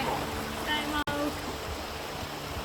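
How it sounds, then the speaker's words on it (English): A secluded waterfall gives a steady, close rushing of water, with people talking over the constant wash. "Sanya and I walked all the way to this very secluded waterfall."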